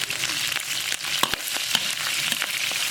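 Scallion, ginger and dried chili fry in rendered pork belly fat in a wok, giving a steady, close sizzle. A few sharp crackles and pops stand out against it, and no one speaks.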